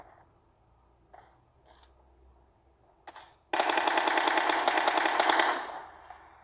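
Gunfire in the video game PUBG Mobile: a few isolated single shots, then a loud, rapid automatic burst lasting about two seconds before a final lone shot.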